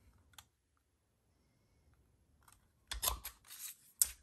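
Scissors snipping through designer series paper for a card craft, a faint single snip then a close burst of several crisp cuts near the end, with no talking.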